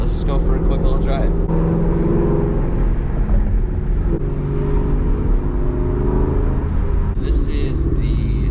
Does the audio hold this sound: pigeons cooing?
no